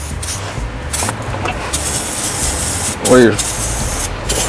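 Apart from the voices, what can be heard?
spraying anti-corrosive lubricant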